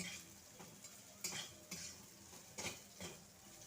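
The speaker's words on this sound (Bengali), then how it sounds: "পাঁচ সাত মিনিট সময় নিয়ে উচ্ছে নরম করে ভেজে দিলাম" Bitter gourd pieces frying soft in a pan, with a quiet, low sizzle and a few distinct spatula scrapes and clinks as they are stirred.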